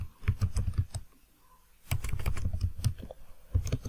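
Fingers type HTML and JavaScript code on a computer keyboard in quick clattering bursts of keystrokes, close by, with a brief lull in the middle.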